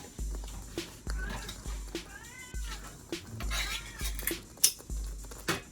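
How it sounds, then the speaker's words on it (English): A cat meows several times in short, rising calls amid kitchen clatter and occasional chopping knocks from cutting sausages, fairly close. "If you hear my cat meowing"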